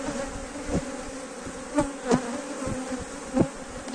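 Honeybees and nurse bees buzzing around a queen shipping box, a close steady drone with several sharper passes as individual bees fly near, no talk.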